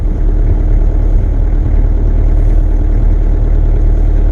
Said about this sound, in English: I still have the cold start knob pulled out, so that's why it's idling a little faster.